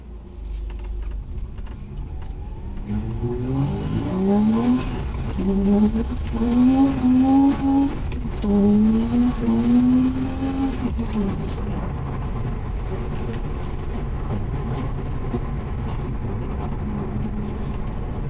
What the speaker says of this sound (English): I was not expecting such a wheel spin